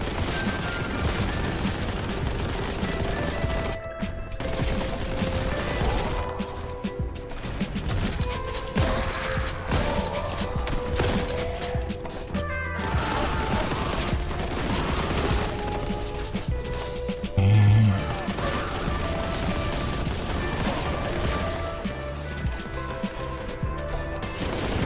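Gunfire and heavy weapon impacts from a fast-paced boomer shooter video game, a dense continuous barrage of shots, crashes and mechanical clanks over a game soundtrack, loud throughout with a brief lull near the middle.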